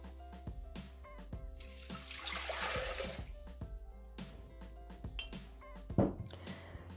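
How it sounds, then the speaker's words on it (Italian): Water poured into a Thermomix jug while making green bean pesto, a rushing splash that swells in the middle with clinks and knocks around it, heard close and fairly quiet. "Iniziamo la ricetta mettendo all'interno del boccale l'acqua."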